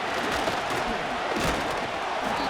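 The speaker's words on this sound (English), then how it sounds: "This crowd into it now as we get to 3rd down." Football stadium crowd in a simulated Madden 25 game between the Washington Commanders and Tampa Bay Buccaneers, a steady roar of many voices with swelling cheers, heard close and continuous with commentary voices mixed in.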